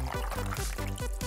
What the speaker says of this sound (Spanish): Vierte la leche.